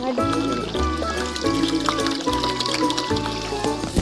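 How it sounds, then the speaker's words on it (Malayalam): Soda poured into a pickle drink gives a continuous fizzy liquid splash, heard under a person talking and background music. "അപ്പൊ സോഡ ഒഴിച്ച് ഫുള്ളൊഴിക്കണ്ട."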